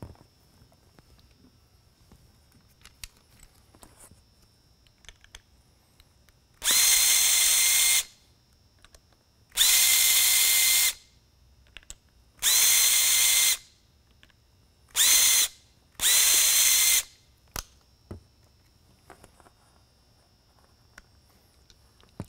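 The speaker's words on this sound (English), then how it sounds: "The back of the light head here, four retainer screws, go ahead and remove those" A power drill backs out the four retainer screws on the rear of a Whelen ION light head, five loud whirring bursts of one to two seconds each separated by short quiet gaps, close up with no talk.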